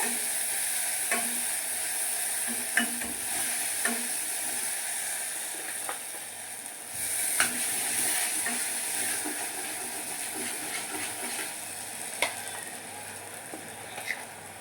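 Masala paste for crab curry sizzling and frying in a hot pan, a steady bright hiss broken by scattered pops and spatters, heard close with no talking.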